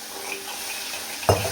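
Vegetables being stirred with chili powder in a frying pan, a steady soft sizzle with one sharp scrape or clatter of the spoon against the pan near the end.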